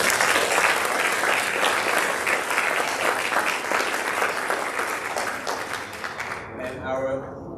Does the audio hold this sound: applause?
yes